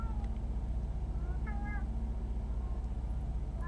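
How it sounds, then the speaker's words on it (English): A cat meows several times in short, faint rising calls over a steady low engine-like hum, with a voice speaking nearby. "The cat's back."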